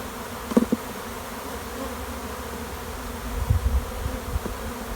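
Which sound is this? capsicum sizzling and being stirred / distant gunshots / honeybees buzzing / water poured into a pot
honeybees buzzing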